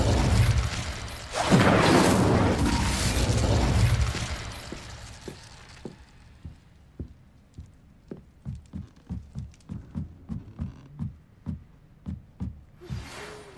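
Incendio fire spell cast in Hogwarts Legacy, a loud roaring whoosh of flame bursting for a few seconds, then fading into a run of soft rhythmic thuds.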